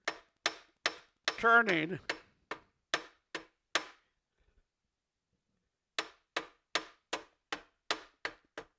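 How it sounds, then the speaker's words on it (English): Light metallic taps of a hammer on stuck nuts repeat in a steady rhythm, close by, with a brief spoken word early on and a pause before the tapping resumes. "if you take a hammer and gently tap"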